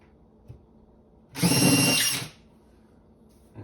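Power drill fitted with a 5/8 bit boring into a wall behind an over-the-range microwave spot, one loud whirring burst of about a second, near and alone, with quiet room tone before and after.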